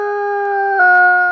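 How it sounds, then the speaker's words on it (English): A wild wolf howling in Voyageurs National Park, one long, steady, loud tonal howl that shifts pitch slightly partway through, clear and alone without other sounds. "Wolf number 94 not only howled once, he switched directions and howled twice."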